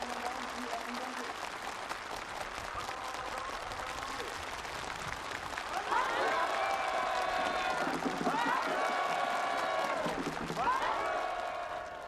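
Enthusiastic applause from participants at a new-house moving-in ceremony on a farm in North Hwanghae Province, a steady wash of clapping under a narrator's voice, joined midway by loud music with a tonal melody.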